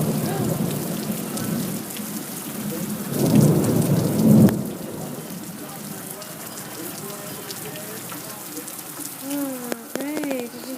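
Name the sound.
thunder and rain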